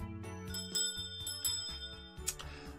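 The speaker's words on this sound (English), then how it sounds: "we suddenly hear the doorbell ring" Doorbell in the Code Realize video game rings as a bright metallic bell struck repeatedly in a quick rhythmic series, clear and close, with no talking.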